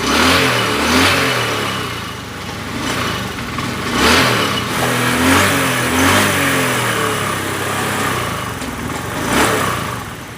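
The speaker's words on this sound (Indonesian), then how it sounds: "Start kaki juga harus sambil digas." A Honda Beat FI scooter engine being kick-started with the throttle open, revving loud and close in repeated surges that rise and fall over a steady running drone.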